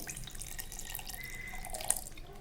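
Water is poured into a mixer jar holding butter, a short soft splashing trickle, close and quiet, with no talking.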